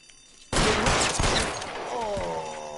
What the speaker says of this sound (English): I shot you to your lung.